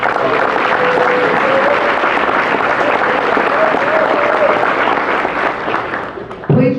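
A club audience at a civic anniversary event gives a sustained, loud, even round of applause, close and dense throughout before tailing off at the end.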